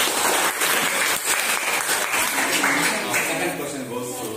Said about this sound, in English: Okay, please, claps.